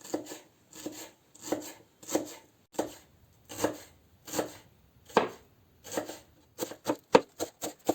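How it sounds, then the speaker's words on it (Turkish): Steady knife chopping of beet greens on a board, a regular series of sharp thuds that speeds up into quicker cuts near the end, close and clear with no talking. "İlk önce taşık pancarımızı çok ince şekilde doğruyoruz."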